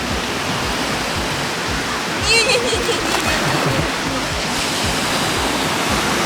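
Atlantic Ocean surf at a beach in Andalusia rushes and breaks nearby in a continuous wash of foam and splashing water, while a voice briefly calls out over it.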